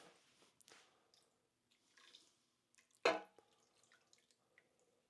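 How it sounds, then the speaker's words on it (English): A short splash of water poured into a pan of simmering spaghetti sauce with meatballs lands once near the middle, close and brief, amid faint kitchen clatter and quiet drips. "going to just put a little bit of water in here"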